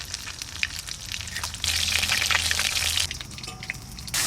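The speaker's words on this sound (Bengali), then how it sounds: "মাছ ভাজা হয়ে গেছে, এবার তুলে নেব।" Lailontika fish frying in hot oil, a steady crackling sizzle that swells louder midway, with a brief tonal clink near the end.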